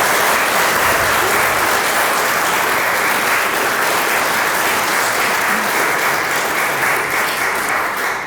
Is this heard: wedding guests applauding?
yes